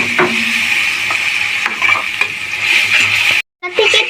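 Turmeric, chili powder and a cumin-onion paste fry in hot oil for a prawn bhuna, a close, steady sizzle broken by scraping stirs of a spoon against the pan, with a brief silent gap near the end.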